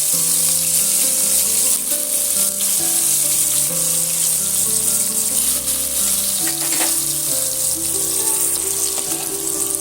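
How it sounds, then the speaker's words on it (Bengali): Ready steamed egg cakes frying gently in oil over low to medium heat for a Bengali egg bhapa dish, a steady close sizzle running unbroken throughout with no voices. "এবার আমি যে ডিম ভাপাগুলো রেডি করে রেখেছিলাম এই তেলের মধ্যে আমি এইভাবে হালকা আমি ভেজে নেব"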